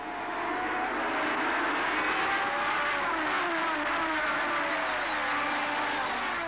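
Formula 1 race cars of the Hunt and Lauda era scream off the grid at the race start, a loud, blended roar of many engines with rising pitch as they accelerate away together.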